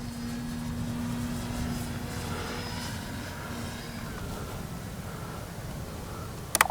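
An E-flite Timber SE radio-controlled airplane flying with flaps deployed, its electric propeller drone steady and moderately distant, rising and fading slightly over several seconds outdoors, with a brief click near the end.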